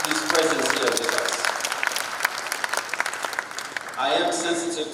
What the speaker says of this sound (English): Please put your hands together and applaud his presence here with us.